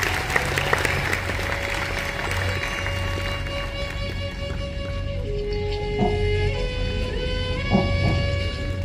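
Sustained applause from an audience, a dense steady clapping that carries on throughout with a faint tone ringing underneath.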